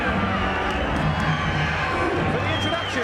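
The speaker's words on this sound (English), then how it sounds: "the crowd is primed and ready to go here at Foxwoods" An arena crowd at a Foxwoods boxing event cheers and murmurs in a dense, continuous roar, with a commentator talking over it.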